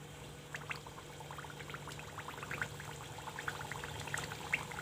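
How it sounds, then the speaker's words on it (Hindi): Chakli made from besan fries in hot oil, a steady, soft sizzle of dense bubbling and popping that runs throughout with no talk. "ऑयल गर्म हो गया है, अब इसमें हम सबसे पहले चकोली को फ्राई करेंगे।"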